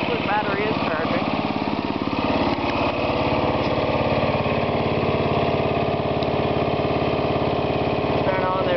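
A propane-powered lawn tractor engine runs steadily at a loud, close, continuous drone with a rhythmic mechanical pulse, while someone talks over it.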